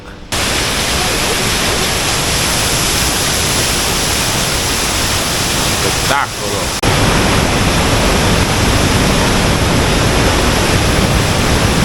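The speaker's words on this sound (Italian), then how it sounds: "Questo è il fiume" The Shala River in Albania rushes through a narrow gorge into a dead end, a loud, steady, broadband roar that runs the whole time and briefly dips midway, with a voice exclaiming once over it.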